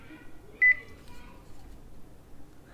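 A single short electronic beep, faint and brief, sounds against quiet room noise.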